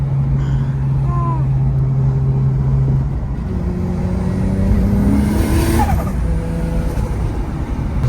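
A 2JZ-swapped BMW E36 runs on a dyno, its engine droning steadily with tonal harmonics that climb and shift in pitch as the revs change, loud and continuous throughout.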